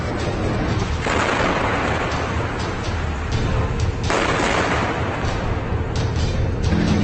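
A rocket from Gaza explodes beside a residential building in Netivot, Israel: loud, continuous rumbling blasts and crackling booms, heavy low-end roar and bursts of debris-like noise, no voices.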